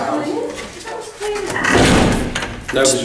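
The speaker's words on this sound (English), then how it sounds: "When I went through, I closed the door" A door closing during a ghost hunt, a short solid thud within loud, close conversation as people talk over and around it.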